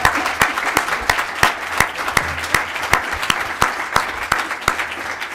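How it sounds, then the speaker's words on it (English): At a City Club of Cleveland forum, an audience keeps up loud, sustained applause, with a nearby clapper landing strong, evenly spaced claps above the steady crowd clapping. "Deserves more applause than that."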